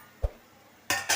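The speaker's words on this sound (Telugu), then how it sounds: "ఇప్పుడు మూత తీసి చూద్దాము." A metal lid comes off a pot of cooking upma, with one soft clank followed by two sharper metallic clinks close by in a quiet kitchen.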